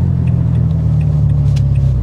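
A car engine rumbles loud and close as the car turns and pulls away from a standstill at a junction on a 70 mph road, a steady low drone with a faint rise in pitch and no talking.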